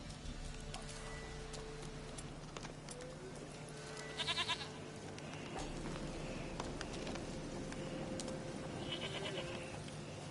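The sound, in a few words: goat bleating in The Witcher 3 video game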